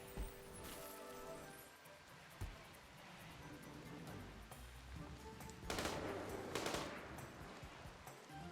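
Rapid bursts of gunfire from hunting in the video game Rimworld, sharp cracks scattered through a busy game soundscape with a louder cluster of shots near the end.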